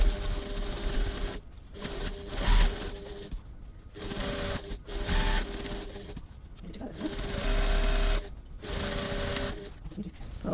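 A sewing machine stitches a bag seam at 2.4 stitch length with a 1 cm allowance, whirring in bursts of steady needle rattle separated by brief pauses, close and moderately loud.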